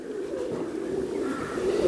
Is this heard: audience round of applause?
no